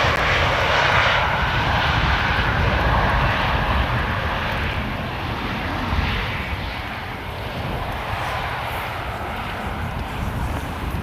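A jet airliner arrives over the Polderbaan runway at Amsterdam Schiphol, its engines roaring loudly and steadily overhead and then easing slightly as it passes, with wind buffeting throughout.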